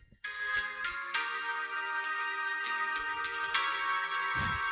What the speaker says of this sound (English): listen to my mutual aid Monday alarm